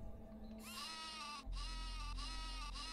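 Sheep weapon in Worms Armageddon on Dreamcast bleats in repeated wavering cries over a steady game background hum, loud and close with no talking.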